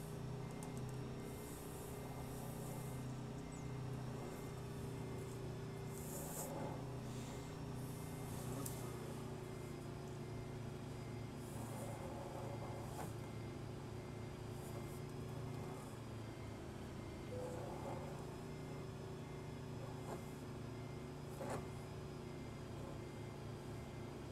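Simulated heavy truck in American Truck Simulator backing up an East Genesis end dump trailer, a steady low diesel engine drone with a constant hum and faint mechanical noise throughout, no talking.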